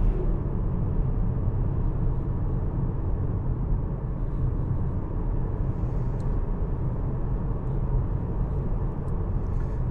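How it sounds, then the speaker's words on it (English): A car accelerating on a road in Russia just past the end of a village, heard as a steady, loud low rumble of engine and road noise from inside, continuous throughout with no voices. "Start to squeeze the gas and build the speed up a little bit again."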